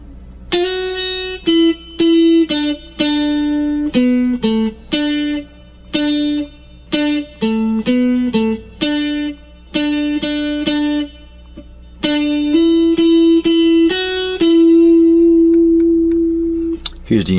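A varied version of the riff, played on electric guitar as clear picked notes in choppy repeating phrases. It closes on a long sustained note, close and alone without talk.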